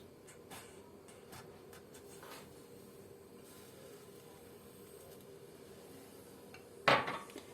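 Boiling milk pudding is stirred in a pot, with soft, intermittent scrapes and light taps of a utensil over a low steady background, then one sharp metallic clank near the end.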